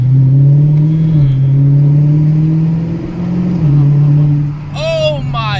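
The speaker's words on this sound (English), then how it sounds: "I just want to give you a quick exhaust note before I jump into anything" A 5.7, 6.1 or 6.4 Hemi Challenger with a catback exhaust revs up and holds a steady, loud exhaust drone, pitch rising and dipping slightly, with a brief voice near the end.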